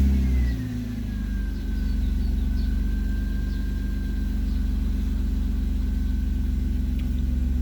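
A stock 150 hp BMW E36 320i engine is started, with a brief crank and catch before it settles into a steady, close, loud idle rumble that runs on alone.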